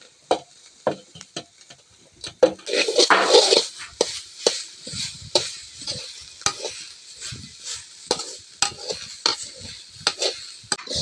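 Grated coconut stir-roasted in a pan, with a metal spoon scraping and knocking against the pan in uneven repeated strokes over a light sizzle, close and fairly loud, no talking.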